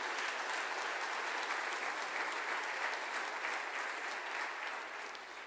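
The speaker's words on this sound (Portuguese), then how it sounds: "Dá um aplauso para Jesus por isso." Sustained, loud applause from a large church congregation during a sermon, steady throughout and tapering off slightly at the end.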